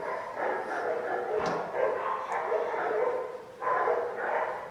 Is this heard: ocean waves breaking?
no